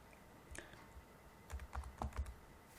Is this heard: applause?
no